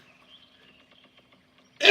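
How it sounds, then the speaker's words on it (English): A sudden loud sneeze bursting out at the very end after near silence with faint background hum. "Uh-oh, sneeze."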